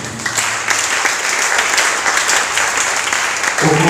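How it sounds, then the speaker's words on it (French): Congregation applauding during a French-language church teaching service, loud sustained clapping from a crowd filling the whole stretch, dense and close, with a brief pause near the end. "Acclamons pour la gloire de Jésus."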